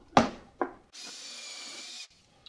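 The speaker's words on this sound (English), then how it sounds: "So let's drill the hole." A couple of knocks, then a power drill with a countersink bit whirs in one short, steady burst of about a second before stopping.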